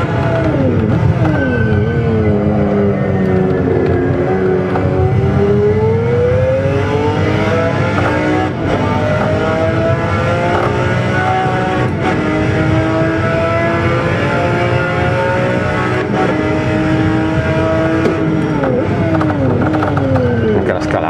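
McLaren F1 GTR race car in Assetto Corsa, driven onboard on a track day at Kyalami: a loud engine note that climbs and falls through gear changes, with harmonic whine sweeping up and down throughout.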